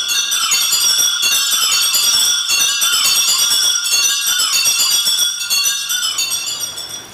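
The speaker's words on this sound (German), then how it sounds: "In Inka ließen sie triumphierend die Glocken läuten." Church bells of a parish church on Mallorca ring loudly and continuously, overlapping peals clanging in a dense, steady wash that fades slightly toward the end.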